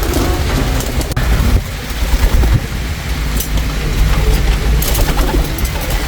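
Pigeons coo steadily and close by, low repeated calls running under a constant patter of rain, with a brief rustle partway through.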